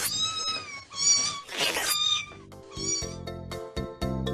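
Five kittens in a box mew repeatedly, high thin overlapping cries close by, with a brief breathy burst midway and a few soft clicks near the end.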